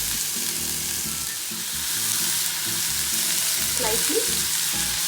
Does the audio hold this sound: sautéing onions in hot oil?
yes